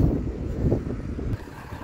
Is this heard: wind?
yes